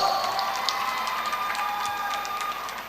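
At a school festival quiz event, an audience gives a steady, moderately distant round of applause for a competing team, continuous clapping with faint cheers that eases off slightly toward the end.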